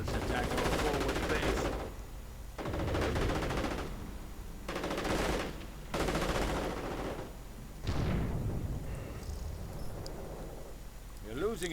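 Rapid gunfire and machine-gun bursts rattle in a World War II strategy game battle with Panzer IVs, stormtroopers and snipers, coming in several loud clusters separated by brief lulls, with a voice talking over the action.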